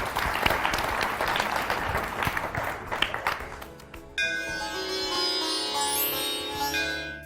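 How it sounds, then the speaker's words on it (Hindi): Studio audience on a Hindi TV show breaks into loud, close clapping for about four seconds, then the applause gives way to a bright musical sting. "इस बच्चे की ईमानदारी पर लेकर एक बार ताली बजनी चाहिए।"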